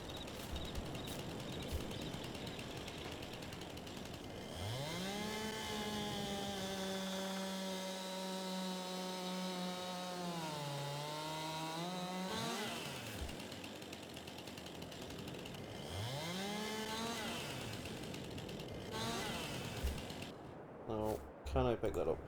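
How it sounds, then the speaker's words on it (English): A chainsaw cuts through a log in Farming Simulator 22. The engine whines and bogs down steadily as it bites into the wood, then revs up again, while a person talks over it. "You do start with a chainsaw on this map, so that's always good."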